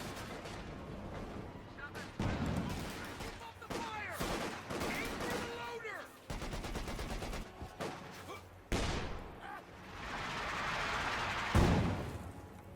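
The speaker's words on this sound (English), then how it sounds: "the infantry support gun's just throwing some barrages here" Infantry support gun lobbing barrages at advancing infantry in Company of Heroes 2, with repeated booming reports and crackling gunfire layered over battle ambience, while a commentator talks throughout.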